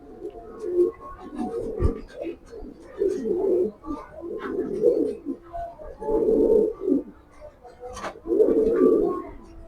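A raced pigeon coos repeatedly at close range, a series of throaty rolling coos coming in rhythmic bursts about every second or so, moderately loud over a quiet background.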